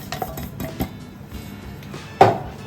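Flour, sesame seeds, ground urad dal and rice being mixed together in a bowl for murukku dough. Soft scraping and clinking of utensil against the bowl, with one sharper knock near the end and no voices.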